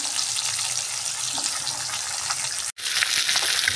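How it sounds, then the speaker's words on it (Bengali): Rohu fish pieces frying to a reddish crisp give a loud, continuous hiss and crackle of hot oil, briefly dropping out for a moment before the sizzle resumes just as strong. "মাছগুলোকে আমি একটু লাল লাল করে ভেজে নিচ্ছি।"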